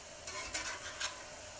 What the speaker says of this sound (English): I'm going to let the first side fry up a little bit.